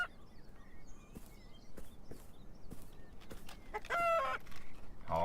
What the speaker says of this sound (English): Oh, hello, chickens.